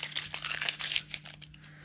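Stickers peeled off a Happy Planner sticker sheet, giving a string of close, crinkly ripping and crackling bursts that run nearly two seconds with no talking.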